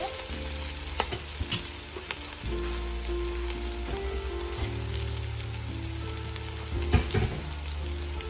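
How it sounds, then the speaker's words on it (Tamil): Onions for chicken biryani frying until golden in a pan, with a continuous bright sizzle and scattered scraping stirs, plus a low steady hum underneath, close and uninterrupted. "இப்போ இந்த வெங்காயம் நல்ல பொன்னிறமாக வதங்கணும்."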